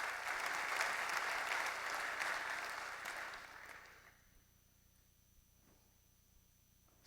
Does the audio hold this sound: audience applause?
yes